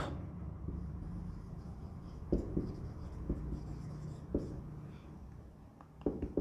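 Chalk or marker strokes on a board in a reasoning class, with short scratchy bursts at irregular intervals over a steady room hum, fairly close and moderately loud, no speech.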